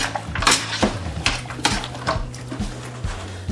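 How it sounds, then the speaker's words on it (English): Beef stew with tomatoes being stirred in a pot, giving a steady run of scraping and clinking knocks of a spoon against the pot, close and moderately loud, with no voices. "Go ahead and stir this up."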